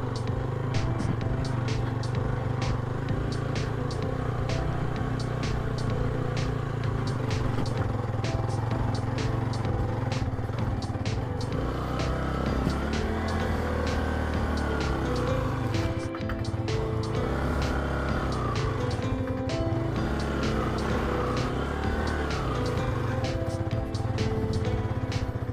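Motorcycle engine labouring in first gear on a rough off-road forest track between Paras and Sharan Forest in Pakistan, a steady close-up drone with rattling clatter that dips and surges throughout.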